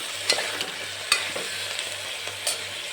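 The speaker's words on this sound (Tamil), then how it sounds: "ரொம்ப வெங்காயம் வதங்க வேண்டாம் கலந்துக்கலாம்" Onions being sautéed and stirred in a pan for vegetable pulao, with a steady low sizzle and a few sharp spoon scrapes against the pan, close and alone.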